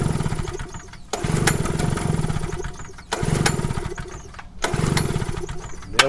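Portable generator engine running its carburetor dry during end-of-season storage prep, a steady loud small-engine drone that sputters and dips three times before catching again, with no talking.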